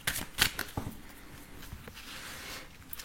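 Tarot cards shuffled by hand for a card reading, a few close, crisp riffling bursts followed by quieter soft shuffling, with no talk.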